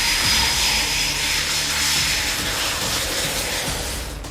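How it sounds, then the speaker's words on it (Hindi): Russian fighter jets roar across the sky at a NATO airbase in a loud, steady broadband rush of jet noise that holds for several seconds before beginning to fade, with no voices. "तेज गर्जना के साथ पुतिन के वायुवीर आसमान में हुंकार भर रहे थे"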